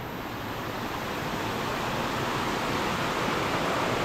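Steady broadband rush of a stream of water flowing down a hillside at Parasnath Hill in Jharkhand, a continuous, even roar with no breaks, fairly loud and close.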